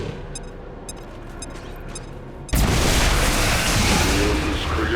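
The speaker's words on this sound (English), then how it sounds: "we will shortly see the damage from both the grenade as well as the explosion" A grenade explosion in XCOM 2 erupts suddenly out of quiet ambience and sustains a loud, broad roar and rumble that barely fades.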